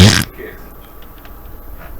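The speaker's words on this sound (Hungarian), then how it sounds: "Miért van ilyen fingó hangja?" A loud, short fart sound effect from a video game opens with a blurt, then fades into quiet game ambience with a few faint blips.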